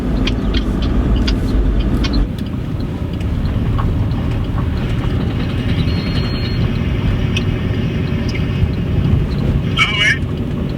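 A car is push-started while rolling with the clutch engaged, yet the engine never catches, leaving steady rumbling road and rolling noise throughout, with voices speaking over it.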